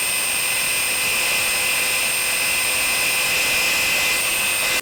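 A Parkside PBS 900 C3 belt sander runs continuously with a loud, harsh, high-pitched whine and roar, close up and steady throughout, with no voices.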